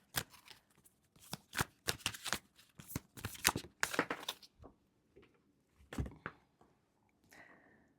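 Tarot cards being shuffled up close, several quick riffling bursts in the first half, then softer scattered card slides and taps with quiet gaps between them.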